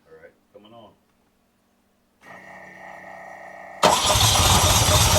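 A 1979 Ferrari 308 engine cranks and fires: brief voice at first, then a steady starter whine, then the engine catches into a loud, dense running roar close by.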